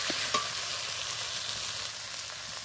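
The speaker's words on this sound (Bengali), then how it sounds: "নাড়তে নাড়তে আমি এটা ভালো করে শুকিয়ে নেব।" Taro leaf curry (vegetarian kochu shak) fries in a pan while being stirred, a steady close sizzle with occasional soft scrapes, continuous throughout without voices.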